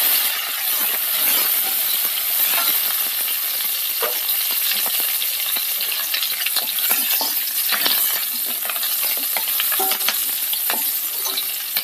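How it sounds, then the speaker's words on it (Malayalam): Fresh coriander leaves sautéed in a hot pan while making rasam, a continuous loud sizzle and crackle with scattered clinks and scrapes of the spoon stirring throughout, stopping for no talk. "ഇപ്പം മല്ലിയില ചേർക്കാം. നന്നായിട്ടൊന്ന് വഴറ്റാം."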